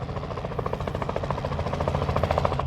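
Helicopter touching down for a landing at a hangar area, heard as a steady, loud rotor buzz with a fast pulsing chop that holds for the whole stretch, with no voices over it.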